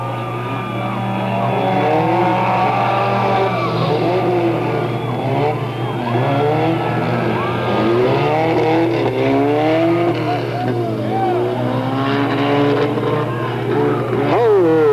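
Race cars roar around a speedway oval on the final lap, engines rising and falling as they pass close by, with a commentator talking over the continuous engine noise.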